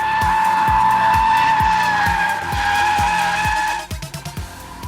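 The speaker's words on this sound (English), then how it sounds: "That was definitely a power slide." Toyota GT86 power sliding, its tires squealing in a loud, sustained skid over a strained engine note with rhythmic pulsing, close and unbroken until the slide eases near the end.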